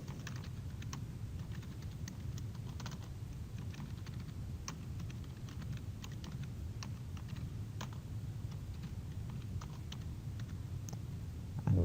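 Steady typing on a computer keyboard, with quick irregular key clicks running throughout over a low background hum, fairly quiet and with no voices.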